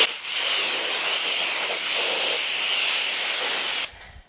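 Water spray hisses steadily onto a 2016 Mini Cooper during a car wash, a loud, close, continuous jet lasting several seconds before cutting off abruptly.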